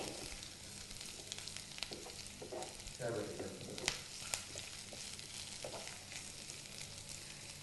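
Broad bean pieces being stirred in hot oil for a tomato mixed curry, with a steady soft sizzle and occasional scraping stirs and clinks, close by and fairly quiet, without any talk.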